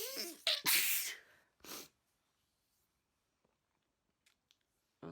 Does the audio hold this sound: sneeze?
yes